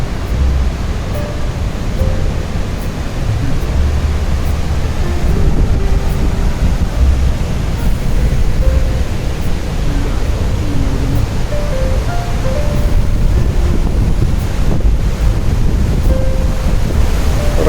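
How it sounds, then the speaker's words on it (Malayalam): The Rhine Falls waterfall in Switzerland sends up a continuous, dense roar of crashing water, with some wind buffeting the microphone. The sound stays loud and steady throughout, with no voices. "നമ്മൾ വെള്ളച്ചാട്ടത്തിൻ്റെ ഒച്ച വളരെ ക്ലിയർ ആയിട്ട് വരുന്നുണ്ട് അടുത്ത് വരുന്തോറും."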